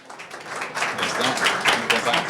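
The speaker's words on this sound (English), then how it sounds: "Please give them a big round of applause." Conference audience applause for speakers taking the stage, clapping swelling from quiet to fuller over a couple of seconds, with voices mixed in.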